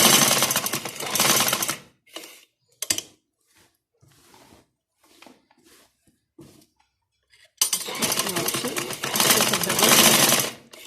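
Sewing machine stitching a girl's frock, running in two loud continuous bursts at the start and end with quieter pauses and brief handling clicks between.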